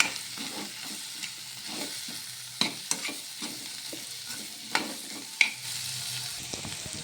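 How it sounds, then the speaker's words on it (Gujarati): Boiled potatoes being stirred into samosa filling in a hot pan, with a steady sizzle of frying under repeated soft scraping and clacking of a spoon against the pan, close and alone. "હવે આપણે એમાં બટાકા એડ કરી લઈશું બાફેલા। તો એને મિક્સ કરી લેવાના છે આ રીતે।"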